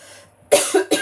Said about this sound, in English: I'm still going to cough.